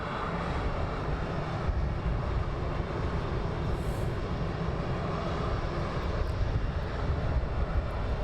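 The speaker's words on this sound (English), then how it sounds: "we have him taxiing down with the EasyJet about to depart" EasyJet airliner taxiing at London Luton Airport, a loud, steady broadband engine roar held evenly throughout with no voices.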